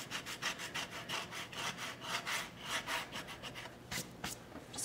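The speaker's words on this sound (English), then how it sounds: "I'm gonna feather over that one with the rest of my sander to kind of blend it in" An electric sander works over stencilled painted wood, sanding off paint in quick repeated rasping strokes, close and rhythmic, with a few short pauses between passes.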